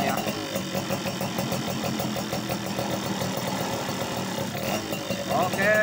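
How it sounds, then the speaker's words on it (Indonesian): A Yamaha F1ZR/Sigma two-stroke motorcycle engine runs steadily at idle close by, a continuous buzzing, slightly rattly drone that rises briefly near the end, with someone talking over it. "tinggal kita nyalakan ya bagian mesin, kita tes oli sampingnya jalan langsung atau tidak ya"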